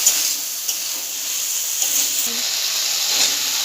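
Boiled chickpeas and vegetables sauté in a pan, a continuous close hissing sizzle with a few soft knocks of a spatula, no voices.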